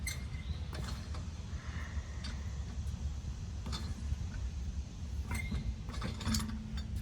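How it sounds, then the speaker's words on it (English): A four-way lug wrench spins lug nuts off a car wheel, giving faint, continuous creaking and grinding with a few sharper metallic clicks, heard close up against a low background rumble. "if you have your 4-way, you just spin it"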